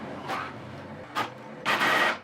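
An HP Envy inkjet printer feeds and prints an alignment page, with three bursts of mechanical whirring from the print head and paper feed. The last burst is the loudest and longest. A low background hum runs between the bursts.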